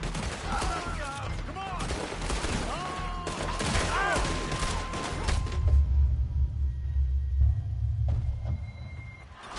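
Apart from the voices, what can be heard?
gunfire in the video game Red Dead Redemption 2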